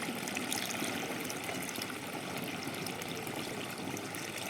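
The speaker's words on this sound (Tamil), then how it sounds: "பத்து லிட்டர் தண்ணிக்கு ஒரு லிட்டர் ஊற்றி ஸ்ப்ரேயரில் ஊற்றிக்கலாம்" Calotropis fertilizer solution, diluted with water, pours into a sprayer in a continuous rushing stream, close and steady, with a bubbling trickle throughout.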